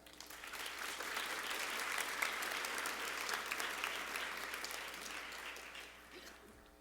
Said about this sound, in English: Let's give our advisors a round of applause.